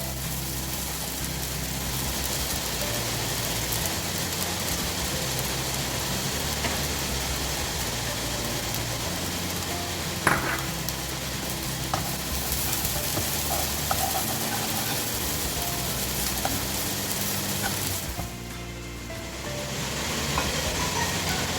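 Chicken pieces sizzling in a hot pan with chilli and pepper powder while cooking a chicken and tender jackfruit cutlet filling, a steady, loud frying hiss with a few clinks and a brief dip near the end.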